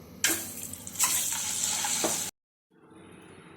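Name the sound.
eggs frying in oil with turmeric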